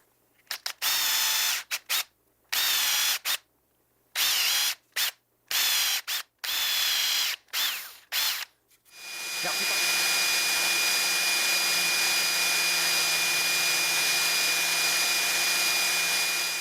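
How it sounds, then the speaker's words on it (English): A power drill with a 1/4 inch bit drilling holes in a wood block whirs in short, repeated bursts with pauses between, then runs steadily for several seconds, loud and close. "and start drilling."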